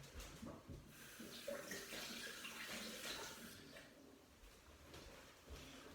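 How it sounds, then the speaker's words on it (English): Hands are washed under a running kitchen tap, a soft, continuous trickle and splash of water with small shifts as the hands move through the stream, faint and without talk. "Just wash my hands."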